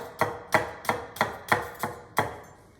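A knife chops through a vegetable on a cutting board while making chickpea soup, seven crisp, evenly spaced thuds about a third of a second apart, close and clear with no talking.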